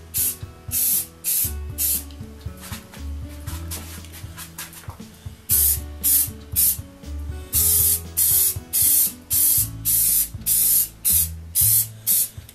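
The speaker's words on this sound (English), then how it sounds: "Now this Rust-Oleum Ultra Cover Paint and Primer, very good stuff." Rust-Oleum Ultra Cover paint and primer hisses from a spray can in short bursts, close and loud, with brief pauses between passes and a longer break midway before another run of quick sprays.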